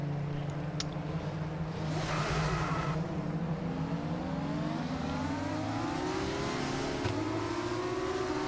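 In the F1 25 video game, an F2 race car at the Bahrain circuit revs and accelerates in a continuous rising engine whine through the gears, loud and steady, with no talking.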